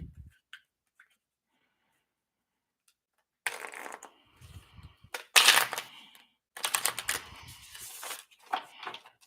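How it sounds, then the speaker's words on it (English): Cards being shuffled in quick riffling bursts after a quiet start, with brief pauses between rounds of shuffling. "I'm gonna do one last shuffle"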